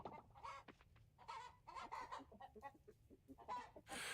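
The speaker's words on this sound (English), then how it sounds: "we're gonna go and pet our chickens" Chickens cluck in the video game Minecraft, a run of short, repeated clucks and squawks coming in uneven bursts, close and clear, with no talk over them.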